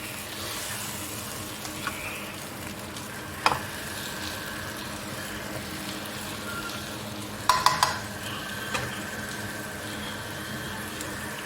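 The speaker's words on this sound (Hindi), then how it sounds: "थोड़ा मिक्स करेंगे।" Potato and brinjal curry stirred in a sizzling pan, a quiet steady frying hiss broken by a few sharp utensil scrapes and clinks against the pan.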